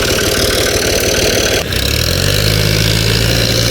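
A stuck tractor's engine running hard, loud and close, a dense rough drone with a short dip partway through before it settles into a lower steady throb.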